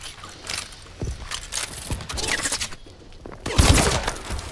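Shotgun blasts in Call of Duty: Advanced Warfare crack out as a few heavy, spaced booms, the last one loudest, amid scattered gunfire and busy battlefield noise.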